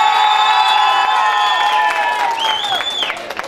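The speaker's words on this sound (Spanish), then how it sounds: "por aplausos ayúdenme a calificar" Crowd at a jaripeo fair in Taxadhó cheering and clapping, loud and close, with whoops and shouted voices rising over steady applause that thins toward the end.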